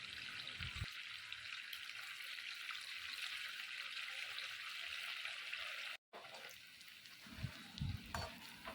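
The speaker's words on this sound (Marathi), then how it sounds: "ब्राऊन कलर येईपर्यंत नगेट्स आपण छान असे क्रिस्पी फ्राय करून घेणार आहोत" Rice flour nuggets deep-fry in hot oil in a kadhai, a quiet, steady bubbling sizzle with a brief break and a few louder clinks of stirring near the end.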